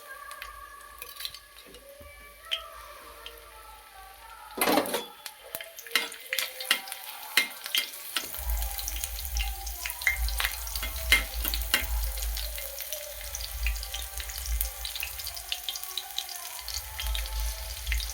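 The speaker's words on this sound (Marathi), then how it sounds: "तेलामध्ये आता आपण लसूण परतू." Garlic cloves dropped into hot oil on a griddle start a soft sizzle that builds into steady frying, with frequent spatula scrapes and taps, close by and without talk.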